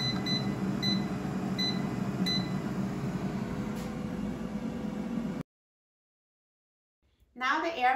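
An air fryer's control panel gives a few short, evenly spaced beeps while temperature and time are set, heard close over a steady hum of fan noise before a sudden cut to silence.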